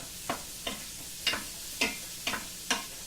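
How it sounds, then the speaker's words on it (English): Garlic frying in a pan on medium heat under a quiet background sizzle, punctuated by six evenly spaced scraping strokes of a spoon stirring it. "We're going to go ahead and put our garlic in there. Give it a quick stir."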